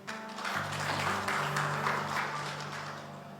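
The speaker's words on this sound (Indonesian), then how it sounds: "Tepuk tangan buat Tuhan" Church congregation applauding during a sermon at GBI Imanuel Aviari Plaza in Batam: steady, dense clapping from a crowd that fills the space, with sustained musical tones underneath throughout.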